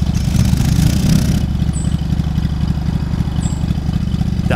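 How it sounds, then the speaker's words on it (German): A lawn mower engine in a lawn-mowing simulator game runs with a loud, steady, clattering mid-pitched drone, a rougher burst at the start settling into an even idle, with brief high chirps above. "Halte Y gedrückt, um den Motor zu starten."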